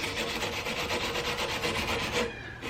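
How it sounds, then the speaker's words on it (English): A small wire brush scrubs rusty hardware from a vintage dresser in quick, rhythmic back-and-forth rasping strokes, close and steady, stopping just before the end. "My little wire brush, and I'm going to give it a bit of a scrub"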